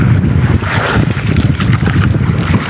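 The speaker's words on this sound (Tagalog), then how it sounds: "Malaki na naman yung mga alon." Waves slosh and surge around a boat while wind buffets the microphone, loud and constant throughout.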